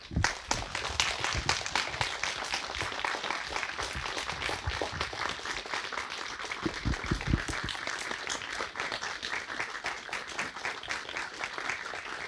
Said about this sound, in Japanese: 皆さん大きな拍手でお迎えください。